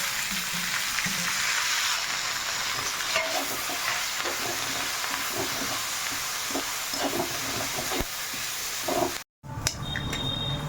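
Curry leaves crackle and sizzle in hot oil with urad dal, asafoetida and salt for a South Indian chutney, a dense continuous frying hiss with occasional stirring scrapes, close and steady with no talking.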